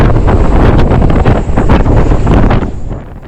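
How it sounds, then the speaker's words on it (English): A severe gale of high-40s knots gusting to 50 buffets a sailing boat in Norway, a loud, roaring rush of wind battering the microphone with heavy, continuous noise that eases slightly at the end. "The wind picked up to the high 40s, with gusts of 50 knots"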